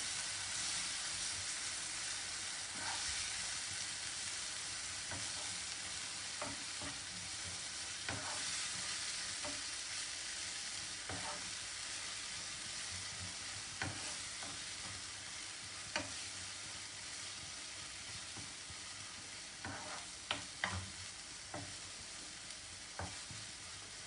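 Tomatoes tipped into frying garlic for an Anglo-Indian prawn vindaloo sizzle and hiss steadily in the pan, with a string of sharp spoon-and-pan scrapes and taps as the mixture is stirred, close and moderately loud throughout.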